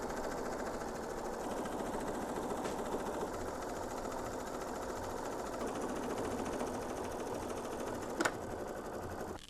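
An embroidery sewing machine stitches letters in rayon thread, a steady rapid mechanical chatter of the needle running continuously up close, with a couple of brief clicks and no talking.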